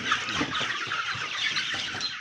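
Golden Lace Wyandotte Bantam chickens clucking and chattering close by outdoors, a busy continuous flock murmur.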